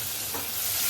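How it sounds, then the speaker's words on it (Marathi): Asafoetida, garlic and curry leaves sizzle in hot oil, a steady dense hiss with a soft stir at one point, close and fairly loud, with no voice over it. "तेल झालंय गरम. त्याच्यामध्ये हिंग, लसूण, कढीपत्ता"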